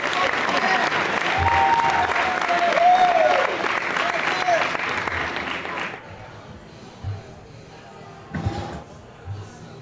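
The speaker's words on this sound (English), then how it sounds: "Give a round of applause for Claire." An audience at a live event breaks into loud, dense applause for about six seconds, then it fades to scattered claps and a few thumps and faint murmurs.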